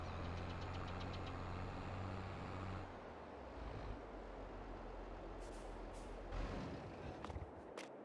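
A tractor engine idles and drives steadily in Farming Simulator 22, a continuous low rumble with a lighter mechanical whine and occasional brief clicks near the end.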